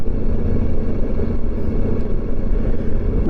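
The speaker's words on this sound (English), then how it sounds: "That's just idling." A Honda ST 1100 motorcycle engine idles nearby with a steady, low, rumbling burble that stays even throughout, with no talking.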